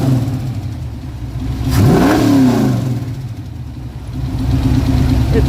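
A 1965 Ford Mustang's 302 Windsor V8 with a tunnel ram idles high and uneven, then revs up once in a brief swell and settles back to its steady rumble.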